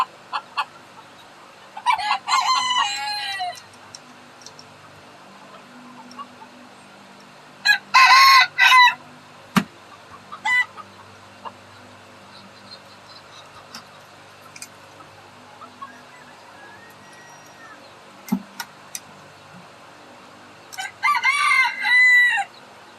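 Backyard chickens cluck at feeding time while a rooster gives several loud crows in separate bursts, nearby, with quiet stretches and occasional small clicks between calls.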